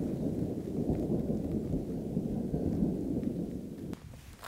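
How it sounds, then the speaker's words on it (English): A steady low rumble of thunder from an approaching storm at a remote archaeological site in North America, continuous and fairly loud for about four seconds before easing, with faint rustling and no voices. "I've been flirting with the storm the last 45 minutes"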